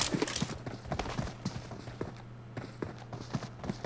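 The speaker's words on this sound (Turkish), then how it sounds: "Ayak sesi ve işareti geldi." Footsteps in the video game PUBG Mobile patter in a quick, steady series of soft thuds over a low constant hum, with no talk over them.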